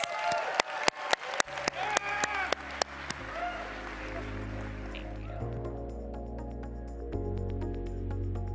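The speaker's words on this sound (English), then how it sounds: "let's give them a round of applause" Audience applause at a startup demo day, dense clapping that starts with sharp individual claps and builds into steady, sustained applause before settling into a softer background wash.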